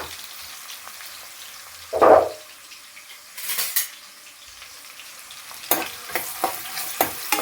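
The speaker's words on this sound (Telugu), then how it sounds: "ఈ ఉల్లిపాయలు వేగనిద్దామండి, ఫస్ట్ వేగాలన్నమాట." Chopped onions fry in a pan for a chicken fry, with a sharp metal scrape at the start, then a soft sizzle broken by spoon stirs and clinks against the pan.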